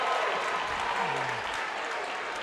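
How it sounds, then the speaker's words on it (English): A basketball crowd at a high school game bursts into loud, sustained applause and cheering that fills the gym evenly, with voices mixed into the roar. "While the crowd was wowing over the blocked shot off of Berry"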